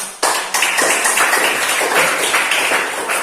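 Applause in a school classroom during an academic coaching supervision session, after a presentation on flora and fauna distribution: a sudden burst of dense, steady clapping from a group of students that carries on at close range.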